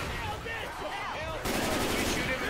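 Gunfire aimed at a Tank in the Left 4 Dead zombie shooter, near a hangar: rapid, loud shots in a continuous burst that grow denser in the last second, mixed with other game noise.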